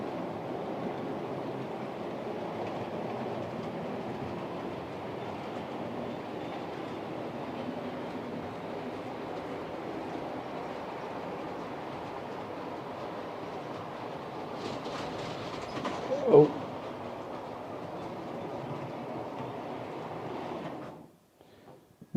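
Train in InterCity executive livery running on track, a steady rumbling roll with faint rhythmic clatter heard at moderate distance, with a brief louder knock near the end before it cuts out.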